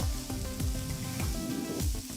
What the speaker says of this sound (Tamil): அப்புறம் 5 மீடியம் சைஸ் தக்காளி பொடியை நறுக்கினது சேர்த்து நல்லா வதக்கணும்.